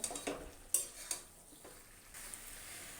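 Pieces of country chicken are stirred into fried spice paste in a pan, giving a few sharp metal clinks and scrapes over a faint, low sizzle, quiet overall.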